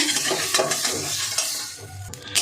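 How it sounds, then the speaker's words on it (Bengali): Whole cumin seeds crackle and sizzle briskly in hot butter, close to the pan, with quick stirring clinks and scrapes throughout a short burst and no voice. "জিরেটা সুন্দর ভাজা হয়ে গেছে"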